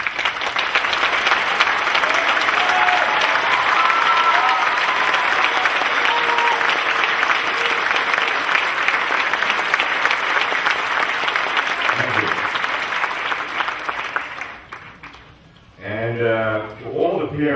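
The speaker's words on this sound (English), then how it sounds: "you would want to applaud those who are behind me that made this day special for you" High school graduation audience gives sustained applause, a dense roar of clapping with some cheering that holds for many seconds, then tapers off before a speaker resumes talking at the end.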